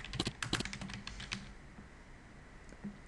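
Quick bursts of keystrokes on a computer keyboard while filling in credit card details in accounting software, a rapid cluster of clicks then a pause and a few isolated taps, faint and close.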